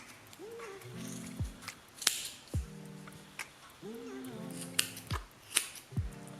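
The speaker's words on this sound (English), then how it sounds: "So the rest you need to trim it and make them even." Scissors snip crochet yarn tassels to even their ends, giving a few sharp, close cuts spaced through a quiet indoor setting alongside faint background tones.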